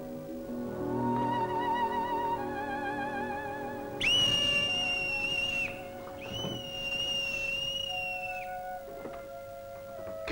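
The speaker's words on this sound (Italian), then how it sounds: "Fischia." A whistle is blown in a 1956 Japanese colour film, giving long piercing tones: a quieter sustained pitch first, then two strong shrill blasts, loud and close.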